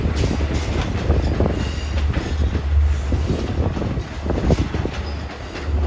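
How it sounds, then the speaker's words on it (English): A Long Island Rail Road train arrives on track 8 at Jamaica station, rolling in loud and near with rhythmic wheel clatter, rumbling motors and faint squeals of the wheels. "Train to Spionk, now arriving track 8"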